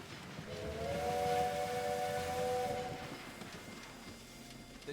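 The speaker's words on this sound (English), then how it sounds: "The train has arrived" A steam train arriving in the game Railway Empire 2, its whistle sounding a sustained multi-tone blast for about two seconds over a steady rumble of rolling stock.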